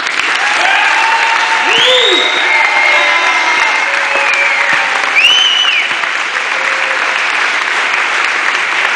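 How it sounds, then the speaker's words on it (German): Loud, sustained applause from a congregation inside a church celebrating the Wacken metal festival, with cheering whoops and a few whistles rising above the clapping. "Das ist mal ein fetter Applaus wert"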